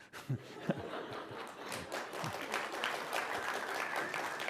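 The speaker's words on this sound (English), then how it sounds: "yeah, you can clap" An audience at a homeopathy debate breaks into applause, a dense patter of claps punctuated by a few sharper thumps early on, building slightly toward the end.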